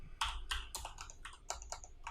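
Rapid typing on a computer keyboard, a steady run of close, crisp keystrokes with short pauses and no voices.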